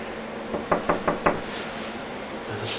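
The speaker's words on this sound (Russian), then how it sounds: "Это стук. Ты можешь реально открыть эту дверь." Four quick knocks on a door in an even rhythm, moderately loud and close, followed by quiet room tone with a faint low sound at the end.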